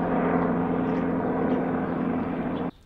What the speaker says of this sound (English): now that helicopter has gone past